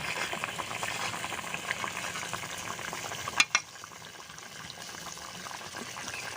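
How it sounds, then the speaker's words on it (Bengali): Potatoes bubbling in water with salt and turmeric, a quiet continuous simmering hiss with a sharp clatter partway through as chopped onion goes in, then the bubbling settles lower and softer. "এই ফোটা অবস্থায় আমি দিয়ে দেবো এই যে পেঁয়াজ কেটে রেখেছি, এবার দিয়ে দেব।"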